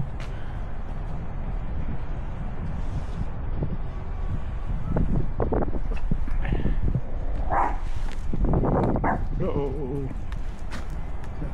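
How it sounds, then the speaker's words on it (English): A dog barks and yips several times outdoors beside Waltham Abbey Church in Essex, a few sharp calls rising over steady wind noise and nearby speech. "Dog."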